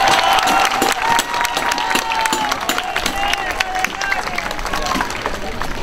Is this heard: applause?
yes